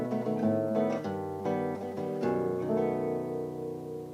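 A classical guitar plays a descending fingered sequence from Villa-Lobos's Prelude No. 1, clear plucked notes ringing and overlapping into a sustained chord, close and solo with no talking.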